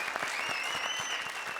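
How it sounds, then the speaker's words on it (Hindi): Studio audience applause on a comedy show stage, steady and even throughout, with a sustained tone running over it. "जोरदार तालियां हमारे राजेश और राजीव के लिए।"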